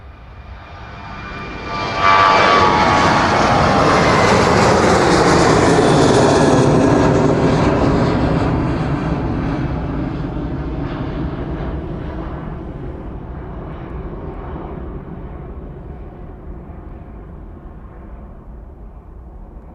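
An airliner departing East Midlands Airport on a service to Alicante roars loudly as it takes off, then fades slowly as it climbs away into the distance.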